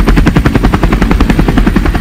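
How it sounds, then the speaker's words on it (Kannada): A new German-made helicopter produces loud, rapid rotor chop, a fast, even thumping pulse that runs without a break, close and dominant. "ಹೊಸ ಹೆಲಿಕಾಪ್ಟರ್ ಖರೀದಿಸಿದ ಬೆಳಗಾವಿ ಸಾಹುಕಾರ."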